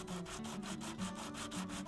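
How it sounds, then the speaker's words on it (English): Quick, steady back-and-forth rubbing of a steel part of an old draw gauge strap cutter on emery cloth, about four strokes a second, close and fairly quiet. "Cue more sanding on the emery cloth."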